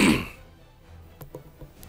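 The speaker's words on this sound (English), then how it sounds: "I tried to mute my mic so that the coughing wouldn't be so loud" A single loud cough right up close to a microphone bursts out at the start, then fades into near silence with a few faint clicks.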